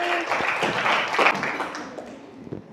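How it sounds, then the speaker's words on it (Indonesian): A class of students applauds together in dense, lively clapping mixed with excited voices, tapering off toward the end. "tepuk tangan untuk kita semua hari ini"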